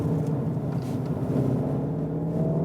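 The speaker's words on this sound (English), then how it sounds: "Nice Cupra sound as well." A Seat Leon Cupra 300 hatchback with a manual gearbox, a turbocharged 300-horsepower engine and front-wheel drive, accelerating in second gear on a dry road. It gives a steady, close, low engine rumble throughout, with no talking.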